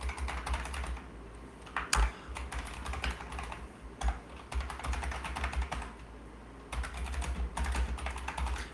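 Rapid typing on a computer keyboard, with continuous clattering keystrokes close by and a few louder key hits over a low background hum.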